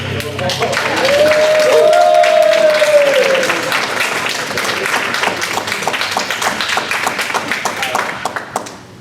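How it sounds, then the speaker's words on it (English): An audience applauds before a dramatic reading by actors and musicians, a loud sustained wash of clapping that thins toward the end, with a brief tonal whistle-like sound early on. "Round of applause"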